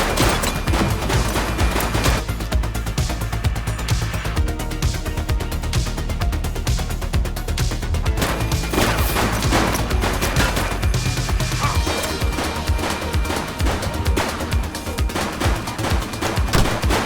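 Gunfire erupts in The Precinct, a continuous loud barrage of rapid shots and cracks with no break. It plays over a dense game soundscape and stays steady throughout.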